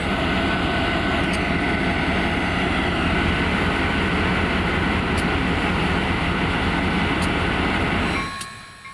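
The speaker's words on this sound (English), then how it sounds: "The train began leaving the siding at Belle Glade Diesel First at around 9 o'clock" A diesel Christmas train leaving the siding at Belle Glade rumbles loudly and steadily with engine drone and rolling wagons, then cuts off sharply near the end.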